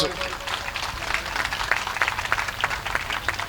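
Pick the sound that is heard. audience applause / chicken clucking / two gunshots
audience applause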